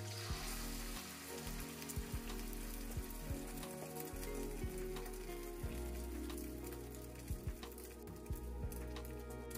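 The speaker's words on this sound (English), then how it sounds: "Add the white parts of the green onions. Give it a stir. And then add the eggs." Eggs frying with the white parts of green onions in oil in a pan, a steady close sizzle and crackle with occasional sharper pops and spits, alone without talk.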